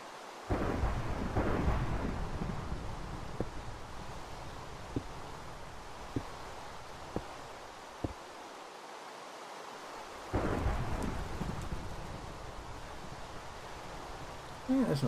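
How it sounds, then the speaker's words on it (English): Heavy rumbling thunder from lightning striking the ground in Minecraft rolls over steady rain, with a few sharp cracks in between and a second loud rumble later. "You hear those explosions? That's lightning hitting the ground."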